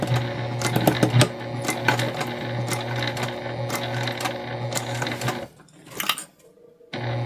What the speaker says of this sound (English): We're gonna do a nice back stitch here.